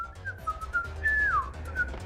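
Whistling in the PS2 video game Max Payne, a short wavering melodic whistle with a rising then falling slide, fairly clear over a low background hum, without speech.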